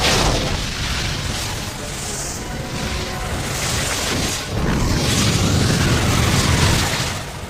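A blue-flame fire attack in an anime erupts into a dense roaring blast, a sustained loud rumbling whoosh with a brief dip before surging again, heard alone without speech.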